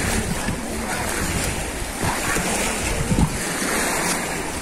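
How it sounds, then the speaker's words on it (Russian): Sea waves wash continuously onto the main town beach at Primorsko-Akhtarsk, a close, loud surf roar with wind buffeting the microphone. "Спускаемся к морю."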